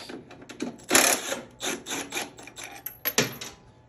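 A wrench works 9/16 bolts loose on an Ariens Deluxe 28 snowblower, close-up bursts of ratcheting and metallic rasping in uneven short strokes, no talking.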